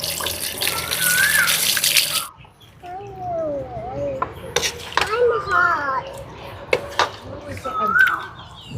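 Tap water runs while food is washed for kinilaw, a broadband stream at the start that cuts off after about two seconds, followed by children's voices and chatter nearby.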